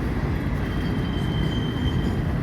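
An FEC freight locomotive, engine 507, backs a loaded rock train, giving a steady heavy rumble of rolling cars with a thin metallic squeal held faintly above it, no voices.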